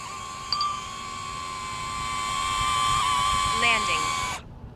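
A DJI Neo 2 drone circles close by with a steady high-pitched propeller whine that swells and fades slightly as it passes, then cuts off abruptly near the end, with faint talk underneath.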